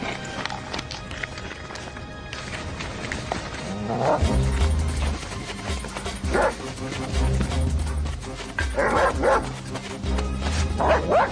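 A police dog barks repeatedly outdoors in a French-dubbed TV crime series scene, the loud barks coming in bursts over clattering footsteps and background bustle, with no voices in the clip.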